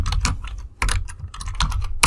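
Someone types on a computer keyboard, a quick burst of close clicking keystrokes with a brief pause midway, with no talk.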